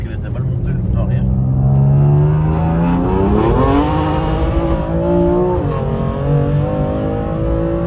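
A BMW M2 Competition, billed as France's loudest, roars loudly up close as its engine revs and rises in pitch, then settles back into a deep rumble.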